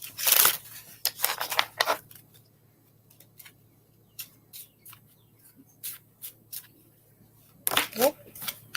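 Tarot cards dropped and gathered up, a series of sharp papery slaps and riffling bursts at the start and again near the end, with quieter taps and shuffles between.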